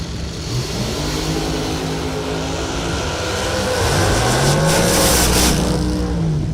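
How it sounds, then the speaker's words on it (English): Drag race cars, one a supercharged entry, launch and accelerate down the strip, their loud engine roar climbing steadily in pitch over several seconds with no talking. "In his supercharged entry, Mark Kelly right side, 470."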